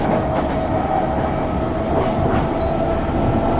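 A C751B train accelerates, rumbling along with a steady electric traction motor whine over the rolling noise of the wheels, continuous and fairly loud.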